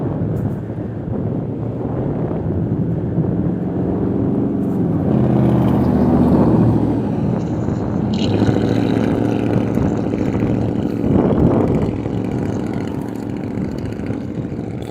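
A truck engine rumbles in a low, steady drone that rises and swells midway, loud and continuous, with no talking.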